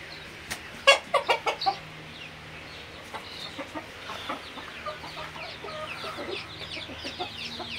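Backyard hobby chickens, including Brahma and European Silkie birds, cluck nearby: a quick burst of four or five loud clucks early on, then softer scattered clucks and calls continue over a low background.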